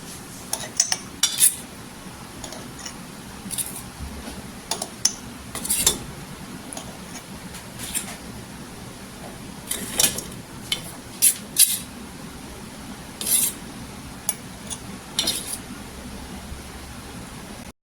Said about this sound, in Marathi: काचेच्या बरणीत ठेवायचं, मी तुम्हाला दाखवते कसं ठेवायचं